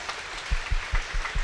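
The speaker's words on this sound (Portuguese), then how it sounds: "Vamos aplaudir Jesus então bem forte" A church congregation applauding during a sermon, a short burst of rhythmic clapping with evenly spaced claps, moderately loud and without speech.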